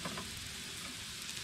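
French fries frying on a 36-inch Blackstone griddle, a steady close sizzle with soft scraping as they are stirred, no voices.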